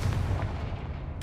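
A Confringo fire-blast spell in the video game Hogwarts Legacy explodes with a short, booming burst and a low rumbling tail, heard alone.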